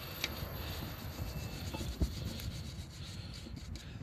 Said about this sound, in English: Now we'll get in a bit of a wire brush. Clean some of the crap off.